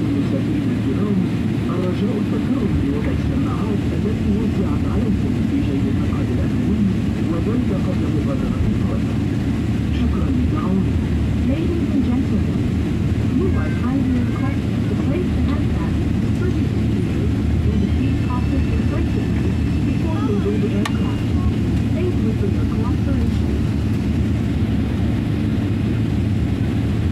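A passenger airliner taxis a long way after landing at an airport in Kuwait, heard from inside the cabin as a constant loud engine roar and low rumble that never lets up.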